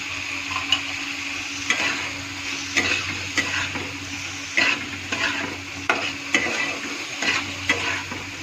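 Food sizzles steadily in a pan while a utensil stirs it, giving regular scraping taps about once a second over a constant frying hiss, close and moderately loud with no talking.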